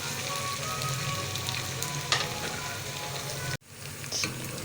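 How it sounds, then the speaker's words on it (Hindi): Ginger garlic paste and green chilies sizzle steadily in hot oil for a mutton karahi, a close, continuous frying hiss broken by a brief stir and a short cut near the end, with no talking. "इसको पहले हमने अच्छे से भूनना है ताकि कच्चेपन भी स्मेल ना आए"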